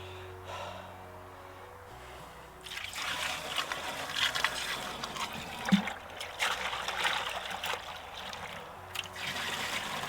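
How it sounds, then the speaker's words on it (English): Liquid product trickles and splashes into a lawn sprayer tank, a steady wet pouring that starts softly and grows louder and fuller partway through, running continuously to the end. "let's put the rest of the liquid in here"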